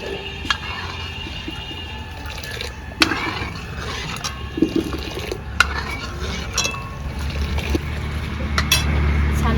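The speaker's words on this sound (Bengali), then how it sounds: "দুধটা কড়াইয়ে দিয়ে কিন্তু অনবরত নাড়াতে থাকবে" Milk stirred continuously in a wok, with a utensil scraping and clinking against the pan in irregular strokes over a low steady hum, while a voice talks over it.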